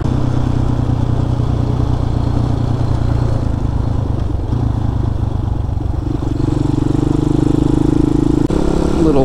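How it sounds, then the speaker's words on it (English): A small 190cc single-cylinder thumper motorcycle engine runs close by with a steady low chugging pulse and some clatter, the tone rising and firming toward the end before a brief dip. "Little 190 thumper runs good."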